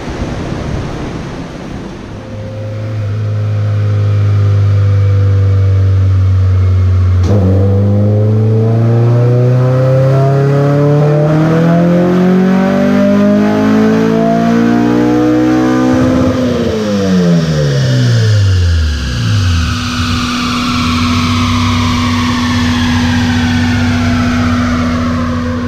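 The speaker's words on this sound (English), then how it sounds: "Nitrous pull must be a 75 shot in there." A Honda S2000 with a single-cam turbo Kraftwerks kit making a nitrous dyno pull: the engine climbs steadily in pitch through a long, loud run, then drops off sharply and settles to a lower drone.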